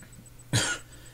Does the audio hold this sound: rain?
no